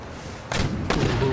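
Two heavy booming thuds of howitzers firing in the video game Empire Total War, in quick succession about half a second apart, each with a short rumbling tail.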